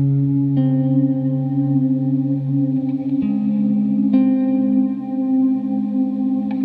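Sustained guitar notes ring through a CKK Electronics Infinite Reverb pedal, each chord change blooming into a long, shimmering wash of reverb tail that overlaps the next, with no talking.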